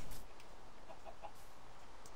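Faint, brief clucks from a Minecraft chicken, a few soft tonal chirps in the middle of a low, steady game-world background.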